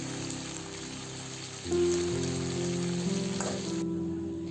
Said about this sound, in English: put chopped onion on the hot oil and keep frying until it turns into browny colors